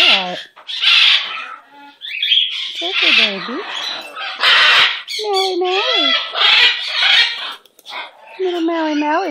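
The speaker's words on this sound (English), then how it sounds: "Love that pretty, pretty bird." A pet bird squawks and chatters loudly at close range in a string of rising, warbling calls with brief pauses between them.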